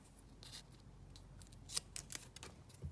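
Scissors snipping foam pads for a handmade Christmas card, a few quiet, irregular cuts with soft paper rustle between, close and faint with no voices.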